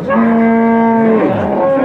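A cow lets out a long, loud low moo close by, the call bending and fading near the end over a faint background murmur.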